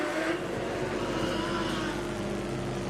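Modified sedan race cars at Gympie Speedway roar in a dense, continuous engine drone at full throttle, with a steady loud hum and no pauses.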